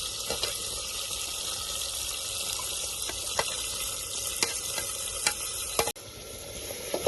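Onions fry in hot ghee as they brown for a layered biryani korma, a steady, moderately loud sizzle broken by several sharp scraping clicks of stirring.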